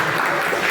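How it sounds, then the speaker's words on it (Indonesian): Brief burst of dense, steady applause from an audience at the close of an Islamic study session on Quran recitation, filling the room evenly with no talk over it. "Mungkin bisa diberi aplaus teman-teman."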